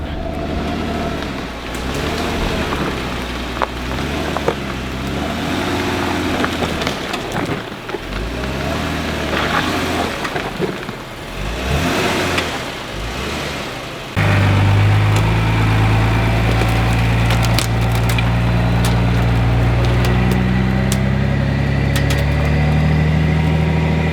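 A Jeep with 42-inch tires and a Cummins diesel swap runs steadily while winching a fallen tree off an off-road trail, its engine drone loud and continuous, growing heavier and more constant partway through.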